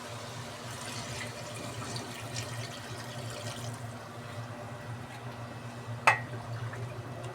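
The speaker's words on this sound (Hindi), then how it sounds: "अब मैं इसमें पानी इतना डालूँगी जिस पानी के में हमारा मटन भी अच्छे से गल जाए" Water runs steadily into a pot of mutton karahi on a home stove, a soft continuous pouring hiss with one brief clink near the end, no talking.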